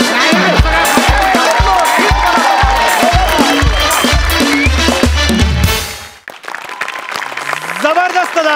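An audience at the Marathi comedy show Maharashtrachi Hasya Jatra claps in a steady rhythm over loud, beat-driven music for several seconds. Both cut off sharply, and a voice speaks afterward.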